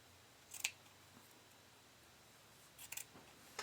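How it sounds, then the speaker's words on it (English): Scissors trim excess fabric from sewn knickers in two quick bursts of close, crisp snipping. Quiet room tone fills the gaps between them. "I'm just going to trim back this excess fabric"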